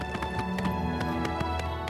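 Horse hooves gallop in the video game Oblivion Remastered with quick, regular clip-clop beats over a steady in-game music and ambience bed. No one talks.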